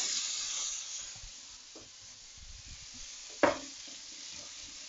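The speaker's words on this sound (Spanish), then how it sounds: "cuando fríes la carne, suelta un olor buenísimo" Beef cheeks frying in hot oil in a pan give a steady, fairly quiet sizzling hiss throughout, with one brief sharper crackle or clatter near the end.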